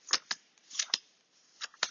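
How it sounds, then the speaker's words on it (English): Playing cards for an Adventure Time board game being shuffled, several short riffling bursts spaced unevenly, fairly close and quiet with no talking. "you start the game by shuffling these cards and drawing 4"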